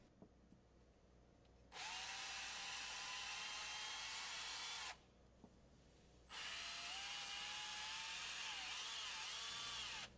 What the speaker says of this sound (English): I'm going to use a smaller 1/8-inch drill bit and clean out all these valves